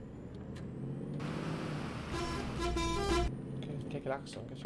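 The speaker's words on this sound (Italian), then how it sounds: "Che clacson che c'è." The horn of a Mercedes-Benz hydrogen bus in the bus simulator OMSI 2 sounds for about a second mid-clip, a clear tonal honk heard under someone talking and the engine's steady hum.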